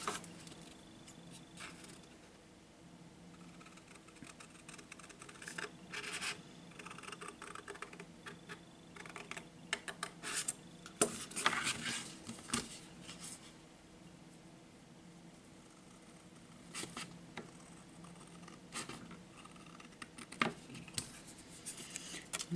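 Paper being cut into four pieces for a Christmas explosion box craft, quiet snips and rustles coming in uneven bursts up close, separated by stretches of soft handling noise.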